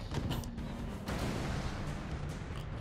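A crab cannon in Alice: Madness Returns fires a rapid series of heavy booms and blasts that crowd together into a dense, loud barrage with no speech over it.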